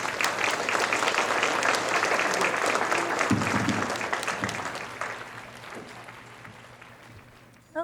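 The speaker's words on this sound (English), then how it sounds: "give her a round of applause" An audience applauds a speaker at a talk on living independently with multiple sclerosis, sustained clapping that gradually thins and fades toward the end, with a brief louder knock just at the close.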